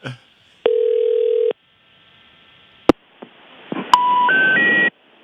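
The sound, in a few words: telephone call ringing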